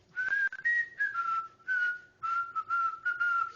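A person whistles a short melody up close, clear pitched notes in quick phrases with small breaks between them.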